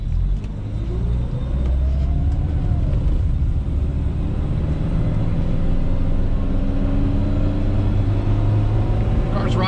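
A 1974 BMW 2002 driving, its engine a steady, loud rumble from inside the cabin with a rising whine as it accelerates through the gears, the tone climbing and holding throughout.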